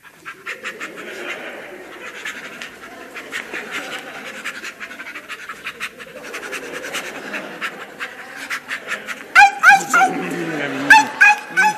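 A man imitates a dog in an old Italian comedy film, panting rhythmically, whimpering and letting out sharp yips and barks, loud and close, with the barks sharpening toward the end.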